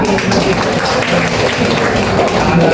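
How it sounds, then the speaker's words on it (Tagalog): Dense, steady applause from a crowd at a product demonstration fills the whole stretch, loud and continuous with no pauses. "Palakpak naman, palakpak."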